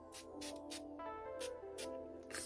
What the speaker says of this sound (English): I then get my Avene thermal spring water spray